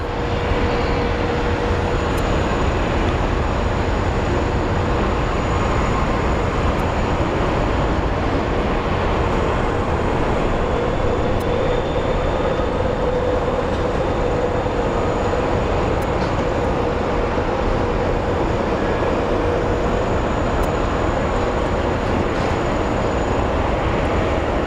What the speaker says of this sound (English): There we have our big Dreamliner. Big Dreamliner is just going through.